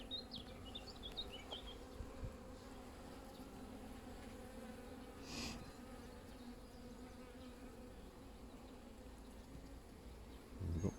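Honeybees buzzing steadily in an open hive during an inspection, a dense continuous drone with a few brief higher buzzes of bees flying close by, no voices.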